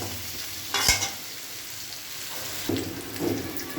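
Green banana pieces sizzle steadily in hot oil nearby, broken by a few sharp scrapes and clacks of a utensil in the pan.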